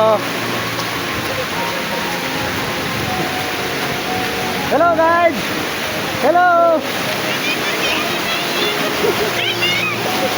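Budhi waterfall rushing with strong pressure, a loud broadband roar running throughout while a person speaks over it in short bursts.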